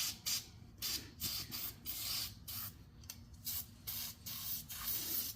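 Short bursts of Fluid Film sprayed from a nearly empty aerosol can onto a Chrysler 200 rear brake hub, several hissing sprays with brief gaps, close and fairly loud.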